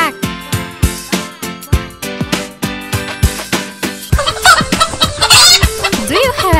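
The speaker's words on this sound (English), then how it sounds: "She's a duck, and she says quack quack quack quack" A duck's quack comes in a cheerful nursery-rhyme kids' song, a string of short sung quacks over bouncy music with a steady beat, the texture turning busier and brighter in the closing seconds.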